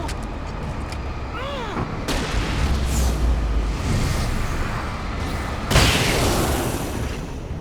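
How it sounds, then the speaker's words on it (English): Heavy gunfire in the Alan Wake video game, with repeated loud booming shots and bursts that swell and crash close by, including a sharp blast near the end, over a constant rumbling din. "They're shooting!"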